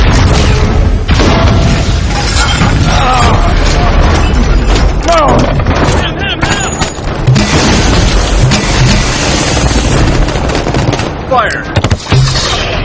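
Missiles fire and explode in an intense action scene from Transformers: Age of Extinction, a loud, unbroken barrage of booms, blasts and crashing impacts lasting throughout, with shouted voices mixed into the chaos.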